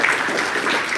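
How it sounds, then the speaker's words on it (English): Brief burst of applause from a crowd at a live temple event in New Jersey, steady dense clapping that fills the whole short moment without voices. "please go round of applause"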